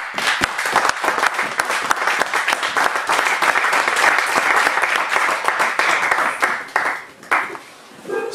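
A church congregation applauds together, dense close clapping carrying on steadily for several seconds before thinning out and briefly dropping off near the end.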